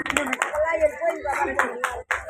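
Applause from an audience at a children's prize ceremony, quick clustered bursts of clapping recurring through the stretch, near and moderately loud, mixed with a voice and background chatter.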